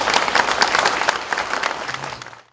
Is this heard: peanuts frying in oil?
no